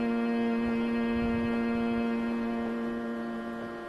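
A single sustained hummed note, steady and clear, held for the length of the passage as a voice-tuning exercise before singing, with no speech over it.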